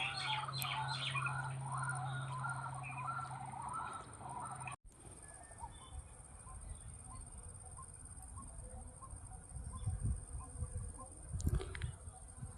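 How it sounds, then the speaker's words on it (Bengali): Small birds chirp and call faintly across an open field at sunset, quick repeated tweets clustering early on before fading into steady wind and low outdoor rumble. "পাখির ডাক শোনো।"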